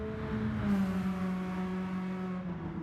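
Race cars on a racing video game circuit accelerate, a tonal engine whine climbing and holding steady at moderate level, with a second engine layered beneath.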